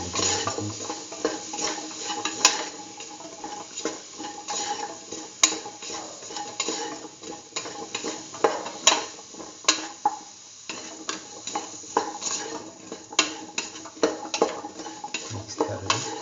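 Tomato paste stirred into a lentil pumpkin stew in a pot, a spoon scraping and clinking against the pot with soft sizzling underneath, steady and close, with a brief pause midway.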